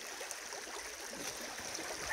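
Water runs through a sluice outdoors in a soft, steady trickling rush, faint and continuous with no voices.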